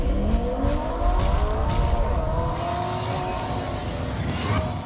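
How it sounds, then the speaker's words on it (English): Porsche 911 Turbo engine revving, a loud continuous roar with rising and falling pitch sweeps, sustained close up throughout with no talk. "Rev up your engines."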